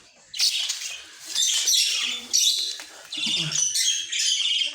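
A female Fischer's lovebird chirps and squawks at its nest box, with bursts of close, bright, scratchy calls separated by short pauses, while someone talks softly.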